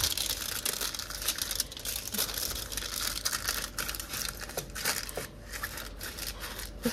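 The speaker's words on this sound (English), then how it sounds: "A bit of foil." A sheet of aluminium foil is crinkled and folded continuously for several seconds while lining an air fryer for a cake, with dense crackling and rustling up close.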